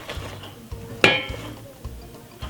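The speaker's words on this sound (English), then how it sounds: "Let's give it another stir." Spoon stirring Jamaican plantain porridge in a pot on the stove, soft scraping strokes repeating at a steady pace with one sharp metallic clink against the pot's side.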